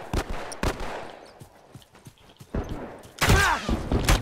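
Rifle gunfire in the video game The Last of Us: a few sharp separated shots with a heavier burst near the end, mixed with scuffling game noise.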